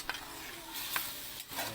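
Steady sizzling of pork frying in a hot pan with browned onion and garlic, a few stirring scrapes, close and continuous, no speech.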